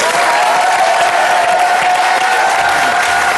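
Loud, dense applause from a TV studio audience on a French variety show, a continuous wash of clapping and crowd noise that holds steady throughout.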